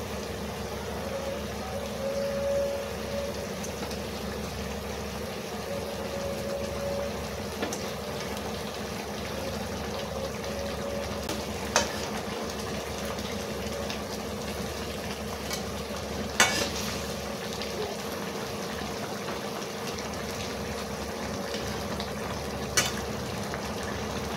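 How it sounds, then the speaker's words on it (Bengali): A Bengali sea-fish curry with slit green chillies simmers in a pan, giving off a steady, even bubbling sizzle that runs on unbroken with a few faint clicks and no talking. "ঝোলটা ফুটে গেছে, মাছগুলো এবারে তুলে দেবো। ভেজে রাখা মাছগুলো দিয়ে দেবো"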